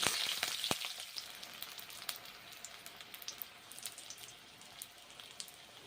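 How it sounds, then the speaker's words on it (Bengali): Green chillies fry in a pan for a papaya vegetarian mash, a soft crackling sizzle with a few sharp pops at the start, then a steady low spatter throughout. "ভেজে নিচ্ছি কাঁচা লঙ্কা"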